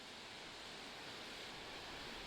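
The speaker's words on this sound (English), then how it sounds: "There you are, there's Spekes waterfall." Steady, unbroken rushing of the waterfall at Spekes Mill Mouth on the North Devon coast, a dense even roar with no voices.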